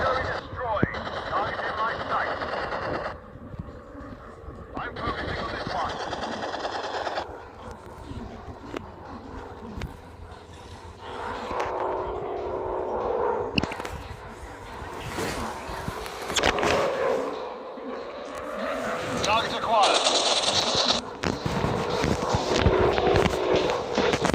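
Machine gun fire in a World War I warplane video game rattles in bursts amid a busy, noisy mix of game effects and occasional talk.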